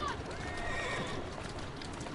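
A horse in the Assassin's Creed Syndicate video game lets out a high, wavering neigh near the start over a steady bed of game noise and hoof sounds, with talk faintly underneath.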